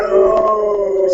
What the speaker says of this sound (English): stop the dog from howling